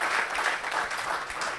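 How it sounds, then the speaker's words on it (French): An audience at a SaaS awards ceremony claps briefly in a brisk, close burst of applause. "on peut encore les applaudir d'avoir pris le temps"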